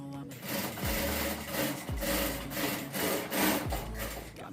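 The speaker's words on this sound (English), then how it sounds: "while sewing, you have to back stitch at that point." A sewing machine runs in short bursts while back stitching a dart on a jumpsuit, its steady motor whir stopping and starting several times at close range, with faint background noise.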